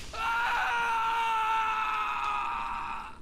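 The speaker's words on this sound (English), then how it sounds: "Anytime somebody yells like that, it usually means that they died." Character in the video game Halo Infinite letting out a long, strained dying yell, a single sustained loud cry that tails off.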